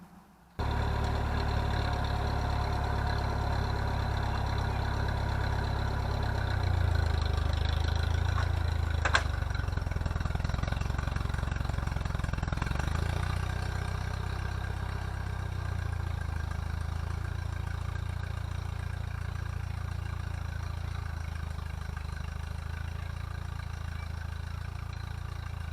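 A tractor engine pulls a plow through a field to cut a furrow, rumbling steadily at a low, constant drone for the whole stretch with a slight rise in effort partway through; no talking.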